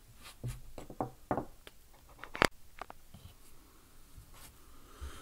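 A carving knife peels thin strips of wood from a hand-carved wood spirit walking staff, giving a series of close, dry scrapes and sharp clicks with one loud snap midway.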